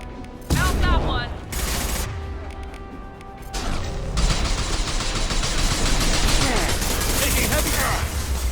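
Heavy rapid gunfire and impacts in Mass Effect 2 on the Omega mission, loud bursts and crashing hits that build into a steady barrage, with a voice briefly speaking over the early shots.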